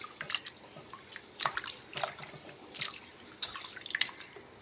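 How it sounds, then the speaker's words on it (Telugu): Rice is swirled and washed in water, giving close, repeated splashy drips and sloshes in short bursts, with quiet pauses between them. "ఒకటికి 2 సార్లు ఇలా వంపుకొని శుభ్రంగా బియ్యాన్ని కడుక్కుంటే"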